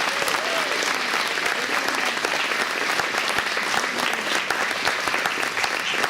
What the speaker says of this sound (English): How about a round of applause for Alice?